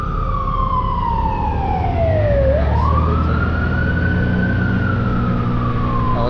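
A paramedic ambulance siren wails loudly nearby, sweeping down then up in a long tone while heard from inside a moving vehicle, with steady road and engine rumble underneath.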